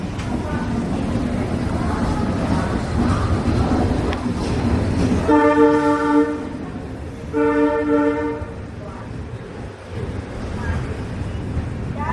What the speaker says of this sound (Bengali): আমাদের বিজয়বাড়া স্টেশন থেকে ট্রেন ছেড়ে দিয়েছে